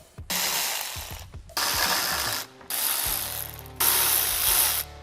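Ratchet wrench clicking rapidly in four loud bursts with short pauses between, as grille bolts are loosened and removed on a 2015-2019 Chevy Silverado; no talking.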